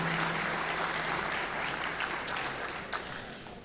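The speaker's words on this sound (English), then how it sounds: "I think we need to give them a round of applause" Audience applause at a community town hall held in a high school venue, steady moderately distant clapping filling the room and tapering slightly toward the end.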